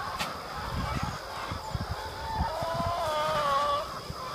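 A flock of about a thousand laying hens forages on fresh pasture, their clucks and calls scattered across a steady outdoor background at moderate distance, with one sustained call rising near the end.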